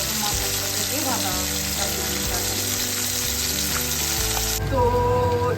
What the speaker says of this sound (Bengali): তাই জন্য আর কি দু রকম মাছ একসাথে দিয়ে ভাজা